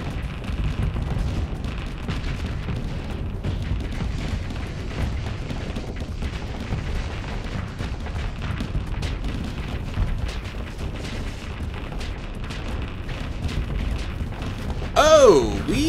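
Spaceship weapons auto-fire during a Starsector space battle, a continuous rumble of rapid thuds and low booms rolling on for many seconds, with a brief warbling tone near the end.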